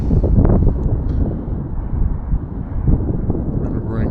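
Gusty wind buffets the microphone outdoors while an RC UMX Turbo Timber Evolution plane is flown on a windy day of about 8 mph. It is a loud, continuous low rumble that swells with each gust.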